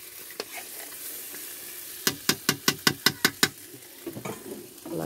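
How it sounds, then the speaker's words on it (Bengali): A spoon scrapes and stirs meat kasha in a pan, about eight quick, evenly spaced clacks in a tight row, with soft sizzling and a few scattered knocks around them. "মাংসটা কষা হোক।"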